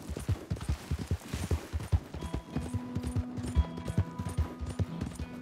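A horse's hooves clip-clop at a steady walking rhythm in Red Dead Redemption 2, close and clear, with faint tonal game sounds underneath.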